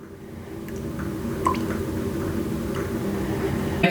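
Melted candle wax is poured into candle vessels over the wicks, giving a steady low liquid flow with a few faint drips and clicks, close and continuous.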